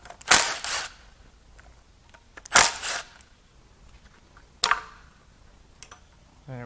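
A small metal washer dropped into a Nissan SR20DET engine during teardown, giving three short, sharp metallic clinks spaced a couple of seconds apart, close and clear over a quiet background.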